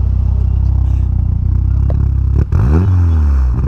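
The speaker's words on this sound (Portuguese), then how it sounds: "pra vocês curtirem também o ronquinho, dá uma aceleradinha" A VW Polo 2.0 turbo with a FuelTech FT450 and a Barenwald muffler idles with a deep, loud burble close to the exhaust, then revs sharply as the pitch climbs and drops back, a second quick blip following.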